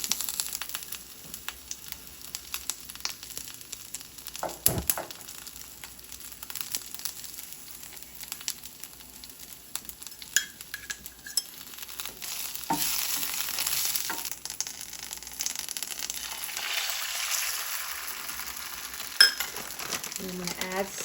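Spinach wilting in a hot frying pan gives a steady low sizzle with soft stirring and crinkling, punctuated by a few sharper scrapes and pan knocks, close by with no talking.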